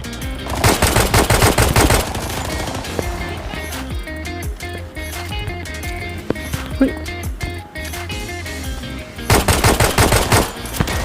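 Bursts of automatic machine gun fire in the shooter game Arena Breakout, loud and dense at the start and the end, with sparser, softer shots and game noise in between.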